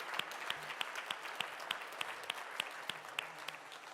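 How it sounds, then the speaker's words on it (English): A quiz show audience gives a round of applause, heard as faint, distant clapping with a few sharp individual claps standing out at a steady rhythm, with no talking. "Please give them a second massive round of applause."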